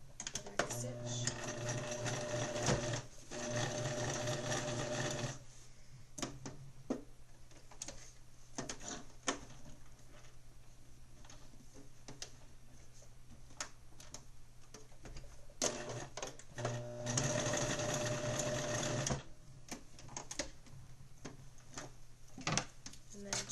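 A sewing machine back-stitches elastic onto a cloth diaper in short rapid bursts of mechanical whirring, separated by quieter stretches with a person talking nearby.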